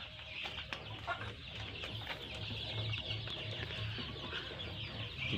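Chickens cluck and murmur continuously in an enclosed space, several birds overlapping at a moderate, distant level with a low background hum.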